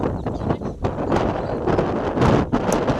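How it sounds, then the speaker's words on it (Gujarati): Strong storm winds buffet the open air of a border village in Suigam taluka, Banaskantha district, roaring in gusts against the microphone with rustling debris, loud and close throughout. "ભારે પવન ફૂંકાઈ ગયો।"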